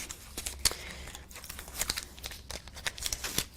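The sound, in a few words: peeling off adhesive backing paper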